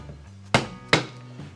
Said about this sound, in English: So you can take a hammer and punch